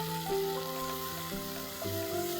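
Finely chopped tomatoes sizzling and frying in a hot pan while cooking South Indian rasam, a steady close crackle alone with no talking.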